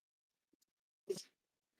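A single close sneeze, sharp and brief, preceded by a couple of faint clicks in an otherwise quiet room.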